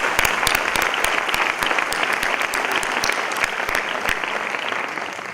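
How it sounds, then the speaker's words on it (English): An audience at the opening session of a world ayahuasca conference applauds steadily, many hands clapping in a dense, even roar with sharp individual claps standing out, sustained for several seconds without speech. "Clap of hands"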